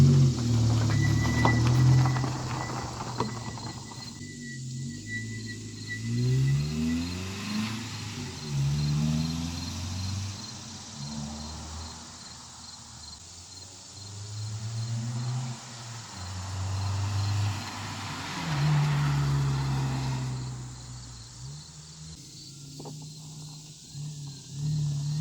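Manual Nissan Altima coupe driving down a street, its engine rising and falling through several shifts, moderately loud from inside the car with a faint steady hiss behind it.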